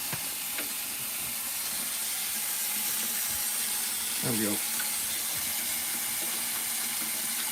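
Cold water runs steadily from a kitchen sink tap onto dirty dishes, a constant close hiss that lasts the whole time. A person speaks briefly over it.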